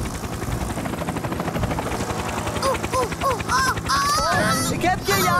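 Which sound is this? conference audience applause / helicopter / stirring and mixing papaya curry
helicopter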